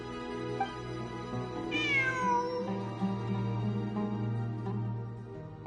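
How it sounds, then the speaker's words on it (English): A cat meows within Genshin Impact gameplay, a single drawn-out, rising-then-falling call standing out clearly over steady in-game background music and ambience. "It really is a cat."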